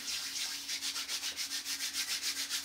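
Palms rubbing aftershave oil back and forth, a soft, close swishing friction in an even rhythm of about a dozen quick strokes, with no talk.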